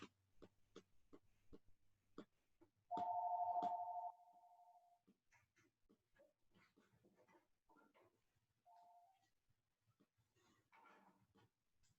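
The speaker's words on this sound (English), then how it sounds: "Sorry, my phone was ringing." A mobile phone rings during a chemistry lecture: one loud, steady electronic tone lasting about a second, then a shorter, fainter beep later. Sharp clicks and soft handling noises surround it, and no one speaks.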